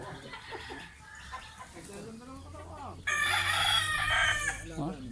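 A rooster, one that lays green-coloured eggs, lets out a loud, strained crow partway through, up close, while people chatter around it.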